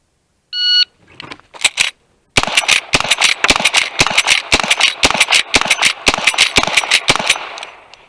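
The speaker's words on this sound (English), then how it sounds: "next up, 1873 lever action" An 1873 lever action rifle fired in a rapid string of sharp, loud cracks. A timer beep comes first, then a couple of early shots, then a dense run of evenly spaced close shots.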